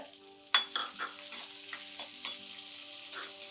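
Chopped medium onions hit hot oil with a sharp sizzle for brinjal thokku, then a steady frying hiss continues as they are stirred, with soft scraping strokes recurring every half second or so.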